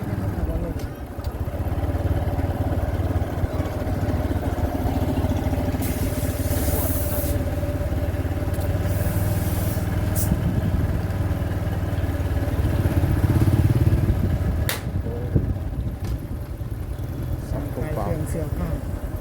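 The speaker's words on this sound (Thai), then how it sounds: "ตอนนี้ก็ได้ขี่มอเตอร์ไซค์แล้ว" A motorcycle ridden through a busy annual temple fair in Mueang Nong, its steady mid-pitched engine drone continuous under crowd murmur and market clatter, with people talking nearby.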